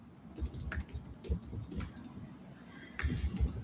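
Quick bursts of typing on a computer keyboard, clustered taps with short pauses between them, close and fairly quiet, with no talking.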